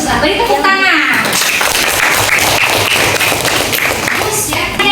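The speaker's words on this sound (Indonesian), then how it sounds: "Beri tepuk tangan." Primary-school class clapping together on a teacher's cue, a burst of quick overlapping hand claps from a room of children, close and fairly loud, with a voice and chatter over the top.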